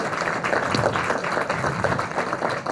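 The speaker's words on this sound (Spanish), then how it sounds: "Les pido un fuerte aplauso, por favor" An audience at a senator's event claps steadily for the senator, a dense, sustained patter of applause from many hands.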